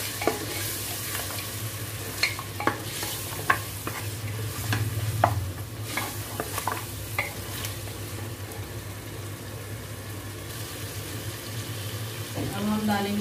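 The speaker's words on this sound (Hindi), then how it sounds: "अच्छे से सॉटे करेंगे इसको।" Marinated mutton sautéing in a pan with salt, chili, ginger and garlic gives steady sizzling frying noise with stirring scrapes and clinks, close, while a person talks faintly over it.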